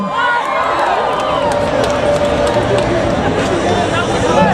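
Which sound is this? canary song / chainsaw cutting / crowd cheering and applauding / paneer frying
crowd cheering and applauding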